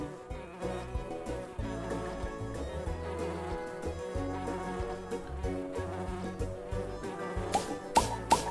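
In a Nature Cat pollinator video game, a cartoon bee buzzes while collecting nectar. The buzzing hums steadily under light game music, with a couple of sharp chime-like blips near the end.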